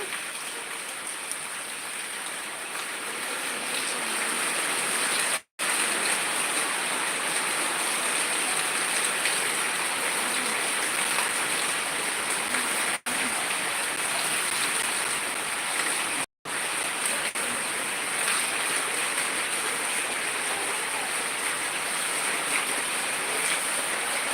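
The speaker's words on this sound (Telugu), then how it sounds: "వర్షం అయితే ఫుల్ పడుతుందండి" Heavy rain pours steadily in Khammam district, Telangana, a dense, unbroken roar of falling water that stays loud and even throughout, cut by a few brief dropouts.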